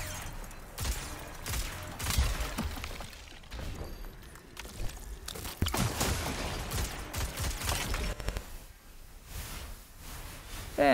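Rapid gunfire from Destiny 2 rattles in dense bursts over several seconds, with a sharper, louder cluster midway and a steady backdrop of mechanical game noise.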